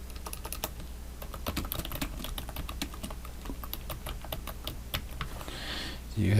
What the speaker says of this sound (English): let's come down here to type your heading